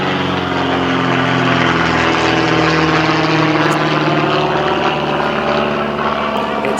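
A hand-built 1970 Chevy Chevelle with a 496 cubic inch big-block engine based on a 454 rumbles through its exhaust, a loud, steady, deep drone that holds throughout without pause.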